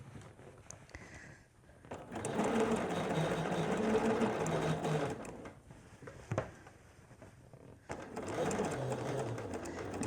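A domestic sewing machine runs in two bursts of steady, fast whirring as it stitches a Cashmerette Stanton hoodie, with a short pause between runs and a quiet room behind it.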